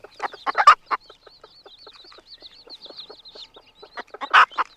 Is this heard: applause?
no